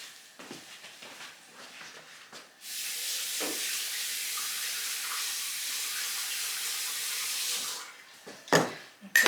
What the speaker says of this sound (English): A quick wash of the hands.